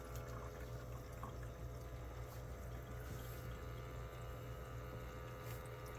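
An eCozy IM-BS260C countertop ice maker pumping water, with a soft, continuous motor hum under a steady trickle of running water that stays even from start to finish.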